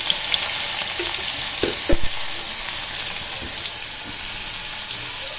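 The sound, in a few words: shallots frying in oil in a pan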